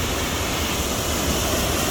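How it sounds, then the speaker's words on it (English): A waterfall near a village roars in a constant broadband rush, loud and close, with no voices over it. "The sound of waterfall is very refreshing"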